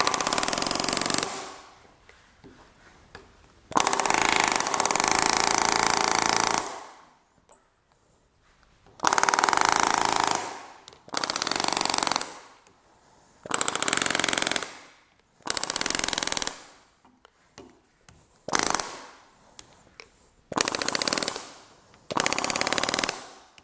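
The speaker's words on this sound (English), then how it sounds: "that's what I'm going to do using the rivet gun" A rivet gun hammers a metal canopy ring flange, shrinking it for a Hawker Typhoon canopy modification: loud, close rapid rattling bursts of several seconds each, separated by short pauses, about nine bursts in all.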